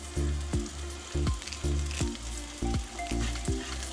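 Sliced garlic and green chilies fry with onions in a pan for Kannur-style chicken upperi, giving a loud steady sizzle broken by repeated thumping stirs at roughly half-second intervals, with no talking.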